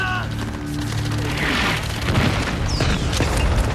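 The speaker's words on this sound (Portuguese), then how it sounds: "Agora vinha o bombardeio da artilharia." Deep booms of explosions rumble one after another amid a chaotic, noisy battle din, with a falling whistle cutting through.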